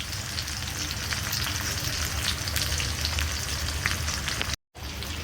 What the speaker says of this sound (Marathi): अशा झालेला कांदा अजून थोडासा ब्राऊन करू